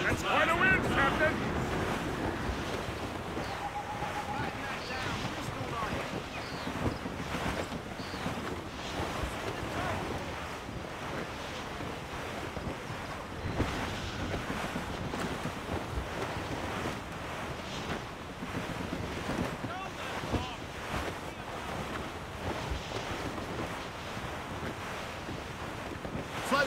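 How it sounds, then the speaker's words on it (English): Steady wind and rolling ocean waves at sea in Assassin's Creed Rogue, a dense, continuous roar and rush that holds at an even level throughout, with voices faintly under it. "That's quite a wind"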